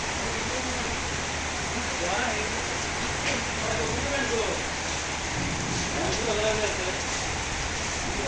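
Heavy rain falls in a dense, constant hiss at Pakutia Bazar, Nagarpur, Tangail, with faint voices murmuring underneath.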